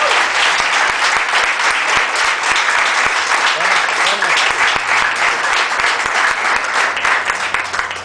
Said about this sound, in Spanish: Denle un aplauso al Señor porque fue la obra de Dios.